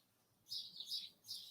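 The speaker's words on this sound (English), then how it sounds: "there's a lot of noisy birds" Noisy birds chirp in three quick, high bursts of twittering, faint and distant against otherwise quiet surroundings.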